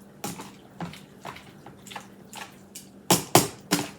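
Hot noodles being stirred into chili in a casserole dish, heard as a series of wet, squishy scrapes and plops, irregularly spaced and close up, growing louder toward the end.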